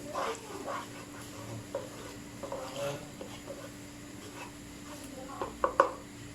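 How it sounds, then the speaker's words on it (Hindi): Chicken frying in a pot over high heat with tomato paste, a low sizzle under occasional stirring and a few sharper scrapes near the end, fairly quiet overall. "थोड़ी सी आँच भी तेज़ कर दी मैंने, थोड़ा सा भी इसमें करूँगा फ्राई।"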